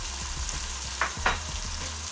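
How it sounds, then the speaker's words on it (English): Salted mackerel frying with scotch bonnet pepper and garlic in a pan for a Jamaican dish, a close, continuous sizzle with a couple of sharp spatula scrapes midway. "So I give it a nice little stir to mix everything up"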